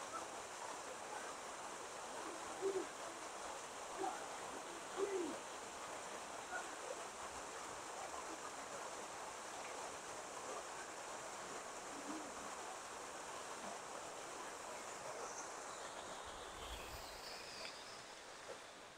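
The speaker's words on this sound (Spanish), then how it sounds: "qué chulada de cascada." Waterfall pouring into a deep natural pool at Concepción de Ataco, El Salvador, a steady broadband rush of falling water at moderate distance, constant throughout with a few faint brief chirps above it.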